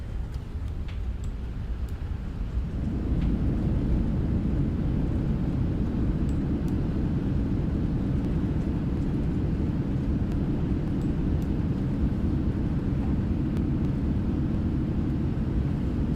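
Reverse thrust on a Boeing 777-300ER landing in the PMDG flight simulator: a low, steady engine roar that swells after a few seconds and holds loud and constant.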